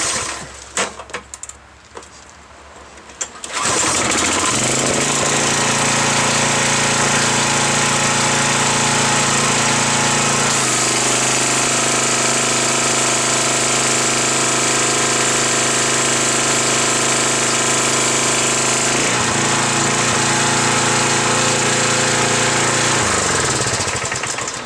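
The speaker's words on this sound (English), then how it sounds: "So I'm going to start this pressure washer up, and we'll run a test here." A pressure washer runs on a homemade wet sand blaster rig with a small nozzle, its motor starting after a few quiet seconds and then droning loud and steady, pitch shifting slightly as it continues without talk.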